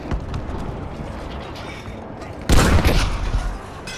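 Machine gun fire in Battlefield 5 during a WWII battle, a dense crackle of distant bursts under a rumbling backdrop, then a loud close burst of rapid fire erupting midway, with no talk.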